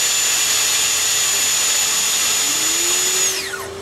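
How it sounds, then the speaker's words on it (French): A Festool dust extractor runs with a CSC 50 saw, giving a loud, steady high whine up close that sweeps down in pitch near the end as a lower hum rises. "Donc ça c'est l'aspiration qu'on entend, c'est pas le bruit de la machine. C'est pas le bruit de la machine, c'est l'aspirateur."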